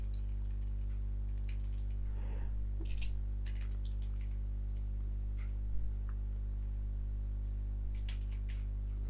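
Light, quick keystrokes on a computer keyboard as a Linux command is typed in an Ubuntu terminal, scattered soft clicks over a steady low electrical hum, with no talk.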